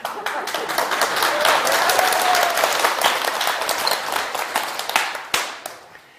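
An audience in a lecture hall claps together in a sustained burst of applause that fades out toward the end.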